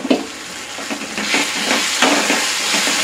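Boiled, peeled taro dropped into a pan of frying tomato masala, with an initial soft thump followed by a dense, steady sizzle and faint stirring scrapes, loud and close, with no voices.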